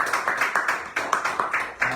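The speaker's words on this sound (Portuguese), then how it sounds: "Dê uma linda salva de palmas" A church congregation applauds after a pastor's closing prayer. The claps come in a quick, steady rhythm that is fairly close and moderately loud, and there is no talking over them.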